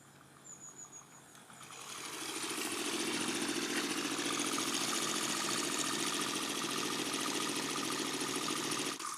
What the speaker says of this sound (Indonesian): Ever seen a Stirling engine powered bike before?